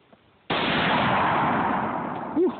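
A single shot from a .243 rifle cracks out close and loud, then decays into a long broadband echo that fades over about two seconds, with a brief voice near the end.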